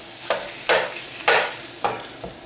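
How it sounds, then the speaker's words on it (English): Goat meat sears in a hot pan for a Jamaican goat curry, a constant sizzle punctuated by four distinct stirring or turning strokes that flare the hiss louder, close by with no speech. "into the pan, and what I'm looking to do is to seal all the meat and get some colour"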